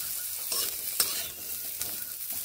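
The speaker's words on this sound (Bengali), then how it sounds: "সজনে ডাঁটাগুলোকে মিডিয়াম ফ্লেমে 30 থেকে 40 সেকেন্ড ভেজে নেব।" Drumstick pods fry in oil on a medium flame with a little salt, giving a steady close sizzle broken by a few sharp scrapes and clinks of stirring, with no voices.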